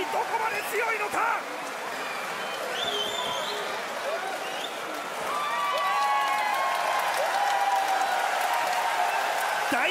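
A boxing arena crowd roars and cheers after a world title defence, a loud sustained wall of voices and whistles under an excited commentator talking throughout.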